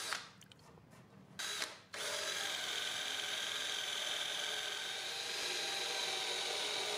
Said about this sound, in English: I'm going to drill in some dowels on a pretty severe angle